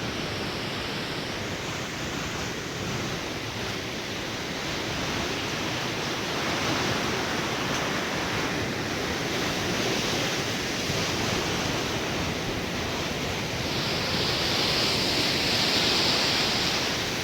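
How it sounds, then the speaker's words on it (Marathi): Sea waves crash onto a beach at eleven at night, forming a steady, loud, roaring wash of surf that fills the whole stretch with no pauses and no voices. "इतका आवाज भयानक येतो समुद्राचा"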